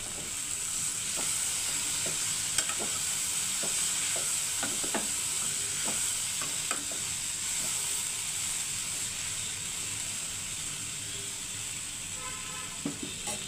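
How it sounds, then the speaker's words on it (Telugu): Kabuli chickpeas with crushed garlic sizzle steadily in a pan, a continuous frying hiss broken by soft clicks and scrapes of stirring throughout, with no voices. "లాస్ట్లో దంచుకున్నటువంటి వెల్లుల్లి వేస్తున్నాను"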